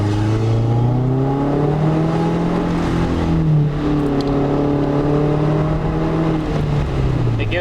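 A 2015 Subaru Legacy engine with the muffler deleted and replaced by a short pipe drones loudly and revs up and down with a deep, throaty exhaust note, close by and continuous throughout.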